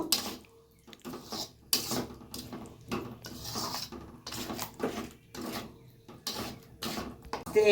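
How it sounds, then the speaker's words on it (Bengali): Jackfruit roast stirred with yogurt and cashew paste in a pan, giving a rhythmic series of scraping, clattering utensil strokes against the pan, close and fairly loud, with short pauses between strokes. "সুন্দর করে নাড়িয়ে নেব।"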